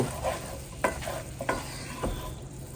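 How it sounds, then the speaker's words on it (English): Ground meat and chopped onion fry in a pan with a soft continuous sizzle, broken by a few scraping stirs of the utensil, close and quiet, with no voices. "And we are just going to cook this until it is brown and crumbly and cooked through."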